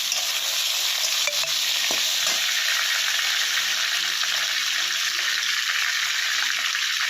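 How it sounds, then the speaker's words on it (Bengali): Potatoes sizzle and fry in a pan for a rohu fish curry while a utensil stirs them, a steady bright hiss with occasional scraping clinks, close and without talk. "দেখো, আলুটা ঢাকনাটা এখন সরিয়ে আবারও কিছু সময় নাড়াচাড়া করে দেওয়া হবে।"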